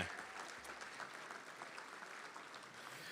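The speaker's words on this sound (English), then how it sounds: "How about another big round of applause for Caden Bungie and Hudson Moline?" Faint applause from an audience at the Best and Bravest Awards ceremony honoring two award recipients, a soft, continuous patter of clapping that holds steady throughout.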